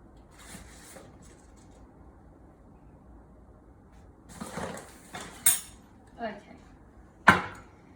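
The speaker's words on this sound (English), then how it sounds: "This all gets a really good mix." Flour for a levain starter is mixed in a bowl with a few scraping clatters and knocks coming in short bursts, preceded by a quiet stretch.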